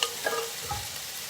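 A short burst of beans hitting a hot frying pan, crackling sizzle with a clink of a utensil, close by.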